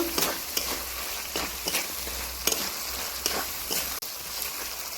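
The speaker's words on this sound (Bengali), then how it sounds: "এবারে আমি ওপর থেকে ধনে পাতা কুচি দিয়ে দিচ্ছি দিয়ে একটু নেড়ে নেব" Crab curry being stirred in a pan after chopped coriander leaves go in, a continuous close sizzle broken by a regular series of spoon scrapes and light knocks, no talking.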